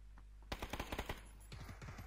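Automatic gunfire in the video game PUBG comes in two quick bursts of sharp, rapid shots, the first louder and closer, the second slightly softer, against a low steady background hum.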